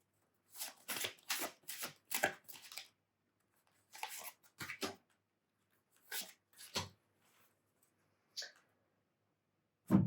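Oracle cards shuffled and riffled by hand in a quiet room, heard as several bursts of crisp papery flicking and snapping, loudest early, then sparser short riffles with pauses between them.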